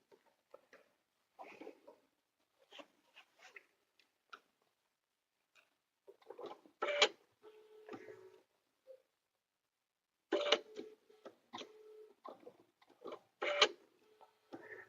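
Sewing machine backstitching a few stitches on an outdoor door sign project, heard as short, quiet bursts of mechanical ticking and needle clatter separated by pauses.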